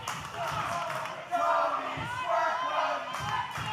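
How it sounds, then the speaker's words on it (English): Wrestling crowd at a live independent show chants rhythmically at a wrestler, a loud swelling chorus with cheers and thuds, while a commentator talks over it. "The crowd calling Tony Gunn Tony Squirt Gun."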